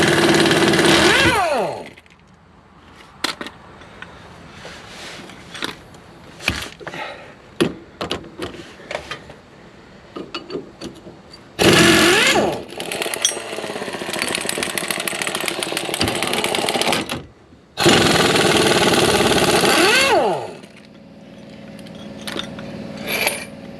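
Impact wrench loosening bolts on an RV suspension during a MORryde Xfactor CRE3000 upgrade, loud sustained whirring bursts near 0–2 s, 11.5–16 s and 18–20 s, with quieter clanks and handling noises between.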